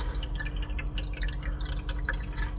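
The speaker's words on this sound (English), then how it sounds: "When I stop pouring, see how it drains down in there?" Water drips and trickles steadily as poured water drains from the deck of an AeroGarden seed-starting unit into its reservoir, a close, continuous patter with no talking.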